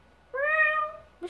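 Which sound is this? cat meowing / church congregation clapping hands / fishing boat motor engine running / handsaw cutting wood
cat meowing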